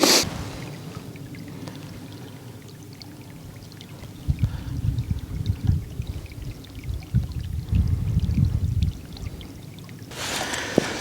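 Water pours and trickles into a survival water filter container with a small floater, a continuous close splashing that grows fuller and louder midway before tapering off.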